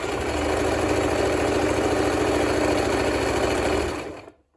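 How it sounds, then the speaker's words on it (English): A sewing machine stitches fabric for a festive banner: a close, steady mechanical whir that runs for about four seconds, then stops abruptly. "So you sew a little bit, lock in your stitch."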